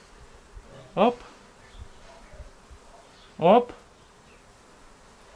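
Flies swarming around fly bait make two short, loud buzzing bursts close by, a few seconds apart, with faint background noise between them and a brief voice exclamation.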